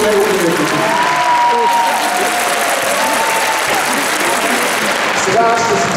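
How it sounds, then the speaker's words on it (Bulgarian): Sustained audience applause fills an awards ceremony at a Ruse gathering, a dense steady clapping from a large crowd with some cheering, running loud throughout while faint voices sit underneath. "За това много ви моля, силни аплодисменти."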